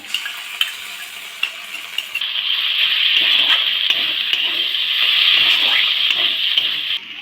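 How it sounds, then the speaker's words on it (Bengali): Poppy seed and mustard paste hits a hot frying pan with flat beans and garlic, giving a loud, steady hiss and sizzle with scraping stirring strokes and a few light utensil clicks. "এবার আমি এই পোস্ত আর সর্ষে বাটাটা আমি দিয়ে দেবো।"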